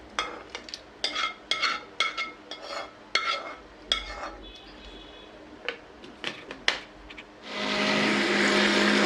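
Close clinks and clatters of a blender jug being handled, then the blender motor starts grinding the butter chicken masala into a paste with a loud, steady whir at the end.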